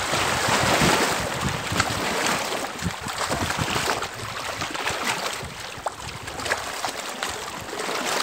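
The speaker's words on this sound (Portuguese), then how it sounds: "O vento tá atrapalhando" Wind buffets the microphone on a fishing boat, a rough, gusty rumble that surges and eases over steady water and boat noise, with no talking.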